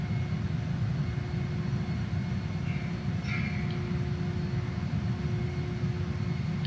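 A Saab JAS 39 Gripen jet rolling out after landing in Microsoft Flight Simulator, a steady low engine roar with a faint whine on top, held at an even level with no talk.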